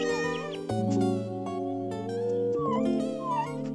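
Kitten meows from the 3DS video game Nintendogs + Cats, repeated tonal calls riding over steady background music, fairly loud and close.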